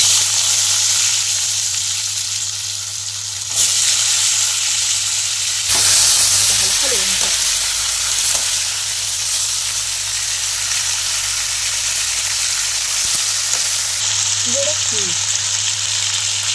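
Potatoes sizzle and fry in a hot pan in a home kitchen, a continuous loud hiss with occasional brief stirring clatter and scrapes.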